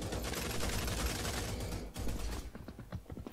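Video game pistol fire arrives as a dense rattle of overlapping shots that gives way to quicker, sparser cracks, loud and close throughout.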